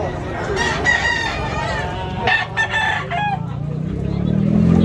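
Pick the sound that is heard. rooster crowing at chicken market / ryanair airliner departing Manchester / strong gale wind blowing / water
rooster crowing at chicken market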